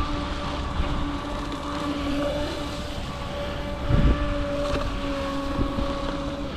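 A UDIRC Arrow 5 RC boat's electric motor whines steadily on the water with a constant tonal buzz, joined by a brief splashing thump midway.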